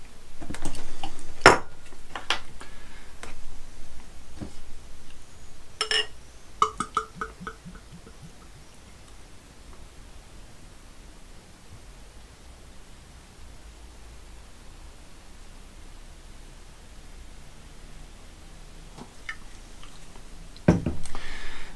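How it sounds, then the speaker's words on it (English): A glass clinks against a bottle, then Camden Hells lager is poured into the glass as a steady, soft fizzing hiss that runs for many seconds. A few more glassy knocks come near the end, with no talking. "let's get to the Camden Hells into a glass"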